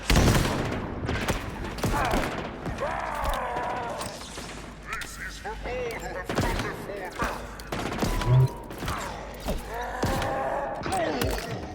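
Halo Infinite combat with grenades and gunfire: rapid bursts of shots and sharp explosive cracks tumble over one another, with energy weapon whines mixed in and voices talking over the fighting.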